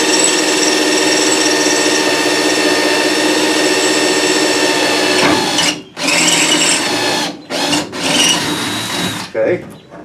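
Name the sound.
power drill drilling a hole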